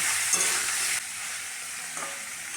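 Chicken pieces fry lightly in oil, a brief steady sizzle with stirring scrapes and a slight drop in intensity partway, heard alone without speech.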